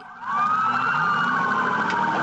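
A police car siren wails loud and close during a high-speed pursuit on a divided highway, one steady sweeping tone held throughout with no talking.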